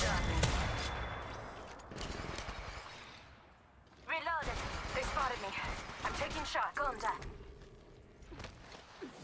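Bursts of gunfire in the mobile game Apex Legends Mobile, loud rapid volleys and impacts in several clusters, with game voice callouts and in-game sound effects mixed in between.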